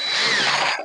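An Ingco 20V cordless drill runs at full speed, driving a 1.5-inch screw in one steady, loud burst of motor whine that cuts off just short of a second, with no talk over it.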